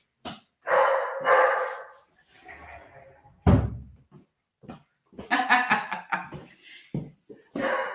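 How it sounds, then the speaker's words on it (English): A dog barks several times in short, loud bursts, with a door thud partway through and quiet gaps between barks. "That's my dog."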